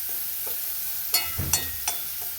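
A curry stirred in a pan in a rural kitchen: three or four distinct scraping strokes of the spoon over a low, steady sizzle, close and fairly clear.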